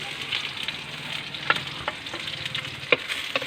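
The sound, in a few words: ginger, green chili and spices being sautéed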